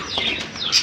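Pineapple and yellow-sided conures chirp in a bird shop, giving a short burst of high, bright calls with a second sharper squawk near the end, fairly close.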